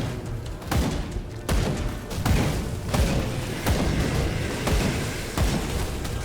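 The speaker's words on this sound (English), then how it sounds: "Yeah, gun shooting, gun firing," Continuous loud gunfire with repeated booming shots and bursts from the video game Grim Dawn, a steady barrage of game-style weapon sounds with no talking.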